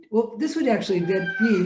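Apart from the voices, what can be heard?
cat meowing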